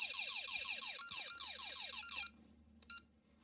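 An Accenta G4 Mini intruder alarm panel chirps a fast series of repeated descending electronic beeps for about two seconds, then stops, followed by one brief isolated tone, close and fairly clear.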